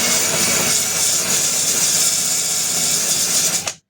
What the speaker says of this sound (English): Once again, go with the drill brush.